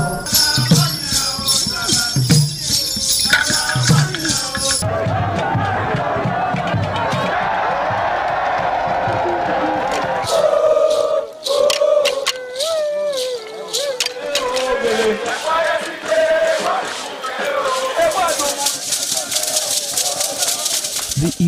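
A festival crowd cheers and whoops at the Igwe Festival in the Benin Kingdom, loud and dense throughout, with shouting voices, drumming-like knocks and a stretch of music-like tones through the middle.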